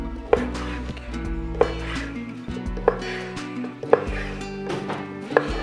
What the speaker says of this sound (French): On va couper le chorizo en petits morceaux.